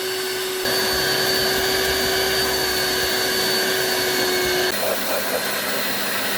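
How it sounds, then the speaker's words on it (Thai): A vacuum cleaner cleans the interior of a diesel Chevrolet Captiva, its steady whining motor loud and close, with a shift in tone near the end as the nozzle moves. "ด้านหลังรถนะคะเราก็จัดการดูดฝุ่นทำความสะอาดให้นะคะ"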